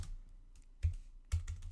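Close-up keystrokes sound on a computer keyboard during a CSS coding tutorial, with a few soft taps followed by two distinct, louder key presses and no talking.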